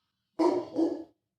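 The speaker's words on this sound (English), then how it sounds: "No one's at the door yet, and you're already barking." An indoor dog gives one sharp, close bark that breaks into a quick second burst, loud and alone against silence.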